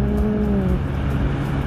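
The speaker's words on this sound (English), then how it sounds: "So apparently my bus is coming right now." A bus pulls up at a stop, its engine rumble low and steady with a brief falling tone as it slows, close and loud in the street.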